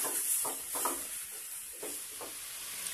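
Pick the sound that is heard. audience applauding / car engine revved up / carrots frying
carrots frying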